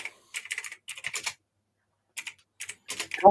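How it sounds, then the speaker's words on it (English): Loud computer keyboard keys clatter in quick bursts of clacky typing, with pauses between runs, close and alone. "Can't you get a modern keyboard? It sounds like a typewriter."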